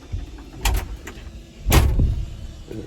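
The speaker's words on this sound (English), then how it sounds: "you pull that down and simultaneously you're going to pull the bar there so that you can close the door" A machine cab door on a pond-digging job is pulled shut with a lever, giving a close mechanical clunk and rattle, a light knock, then a heavier slam-like thud with a brief rattle.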